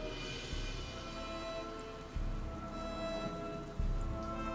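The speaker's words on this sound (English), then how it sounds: "And the rain is falling all around." Steady rain falling in a tabletop role-play setting, a soft, continuous patter with low rumbling swells every couple of seconds, heard alone without talk.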